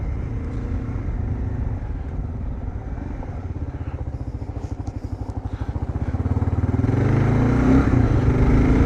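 Kawasaki KLR650 motorcycle being ridden on a rural road near a national park, its steady engine drone rising into a louder, throatier rev as it accelerates over the last few seconds, close and continuous with no talk.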